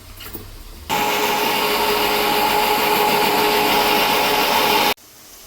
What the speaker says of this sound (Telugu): ఒక 5 టమాటాలు వేసుకుని మెత్తని ప్యూరీ లాగా చేసుకుంటాను